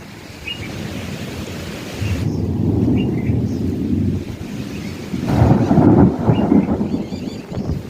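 Heavy rain and a thunderstorm roar as a loud, continuous wash, with deep rumbling swells building twice, close and broad, with no voices.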